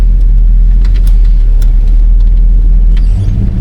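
A Ford Mustang with a Coyote engine rolls slowly in reverse, a loud, close, low rumble holding steady with light clicks and rattles above it and no speech.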